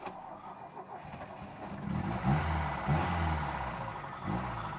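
A Lada 2103 car engine turning over and catching, then settling into a low, rough mid-pitched running hum that swells slightly, heard from inside the car.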